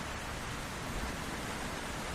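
Steady rain falls in an even, dense hiss throughout, close and unbroken, with no voices.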